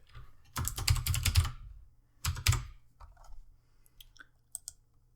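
Bursts of quick keystrokes on a computer keyboard while a folder name is typed during a Python 3.8 install on Windows 10, close and crisp, with two fast runs of clicks and a few scattered taps after.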